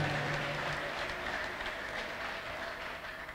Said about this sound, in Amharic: አጨብጭቡ ለዚህ።